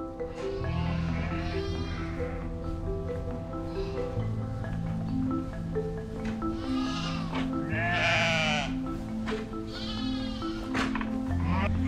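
A flock of sheep and young ewe lambs bleating continuously, many overlapping calls near and far in a barn, with a steady background hum throughout.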